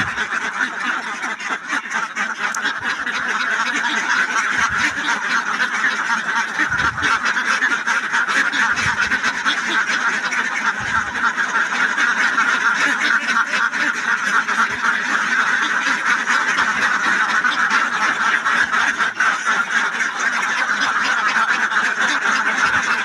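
A large flock of ducks on a duck farm quacks continuously, a dense, loud and unbroken chorus of overlapping calls lasting the whole stretch.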